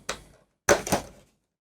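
Small cardboard door on a day-15 escape-game advent calendar box pulled open: a brief soft scrape, a short pause, then a louder double rustling thunk of card flexing, close and alone.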